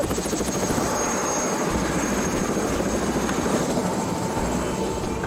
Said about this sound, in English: we took a helicopter all the way down there